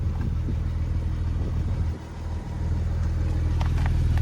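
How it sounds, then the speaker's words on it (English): A 2018 Porsche 911 Carrera 4S engine running close by, a steady low rumble with a brief dip in level midway before settling back into an even hum. "this is how you start the vehicle with the key fob"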